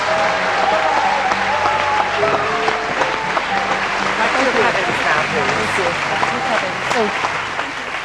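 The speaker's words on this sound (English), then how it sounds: "Thunderous applause for our 2 semi-finalists." Loud, sustained applause from a comedy show audience fills the whole stretch, steady clapping with a few voices mixed in.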